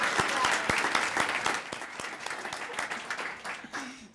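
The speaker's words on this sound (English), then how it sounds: "give them the biggest round of applause" An audience claps for honored students of the month and their theater teacher and mother at a school recognition ceremony, a steady burst of applause with a few sharper claps standing out, fading slightly near the end.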